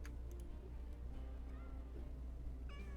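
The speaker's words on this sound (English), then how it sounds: "Hungry cat." A hungry cat meows several times in drawn-out, wavering cries over a low, steady background hum, fairly quiet and without talk.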